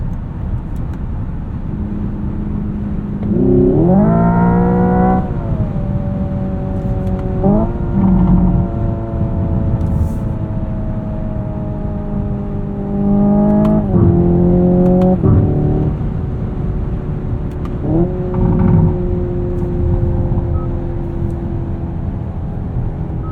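Simulated engine sound from a 2025 Hyundai Ioniq 5 N electric car rated at 600 horsepower, accelerating: loud, rising synthetic engine tones sweep upward and drop back at each shift, repeating four times over a steady road rumble.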